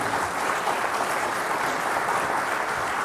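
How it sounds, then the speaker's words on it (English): Sustained applause from a large audience at an AI summit robotics masterclass session, dense and steady throughout, loud and even with no pauses. "Let's have a loud round of applause for everyone."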